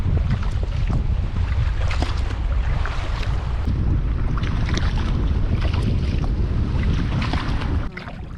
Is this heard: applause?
no